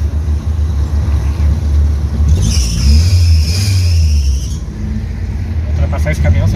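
Car engine revving up under heavy acceleration to overtake a truck on a road, a steady low drone rising in pitch mid-clip, with people talking over it inside the vehicle.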